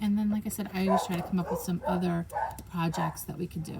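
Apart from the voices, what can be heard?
dog barking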